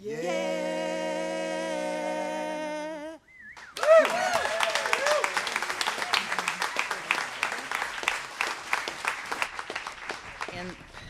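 A singing voice holds a sustained note before the crowd at a housing group press conference breaks into applause, a dense burst of clapping with cheering that gradually thins and fades, with someone speaking over it.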